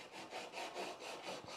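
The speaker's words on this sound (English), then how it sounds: "I place this mesh on a piece of wood, and it kind of works as a sanding block" A wooden door being sanded by hand with mesh wrapped over a piece of wood gives a faint, rhythmic scraping of about five back-and-forth strokes in steady succession.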